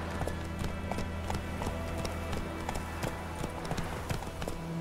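A horse gallops in The Witcher 3, its hoofbeats a quick, regular clip-clop close up over a steady game soundtrack.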